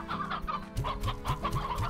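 Hens in the Slime Rancher video game cluck in a quick, repeated burst of short calls over a steady low game background, with no talking.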